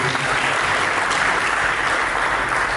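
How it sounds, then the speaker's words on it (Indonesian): Church congregation at a Sunday sermon breaks into loud, continuous applause, a thick wash of clapping hands with no voices standing out. "Berikan tepuk tangan bagi"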